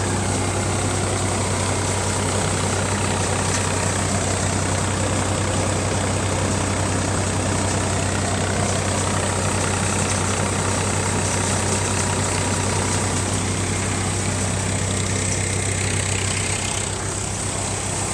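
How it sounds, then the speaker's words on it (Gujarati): A tractor with a 1,736-hour engine runs a Double Ser combo model thresher in a guar crop. Its steady, loud, close diesel drone holds unbroken with heavy low rumble and mechanical whir, and no one speaks. "તો આ રીતનું ટ્રેક્ટર ચાલે છે"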